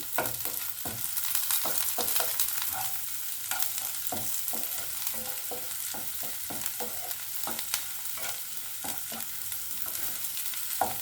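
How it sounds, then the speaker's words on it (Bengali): Onions and four green chillies fry in a pan with a continuous soft sizzle, punctuated by regular scraping and tapping as a spatula stirs them. "পেঁয়াজটা এরকম ভাজা হয়ে গেলে"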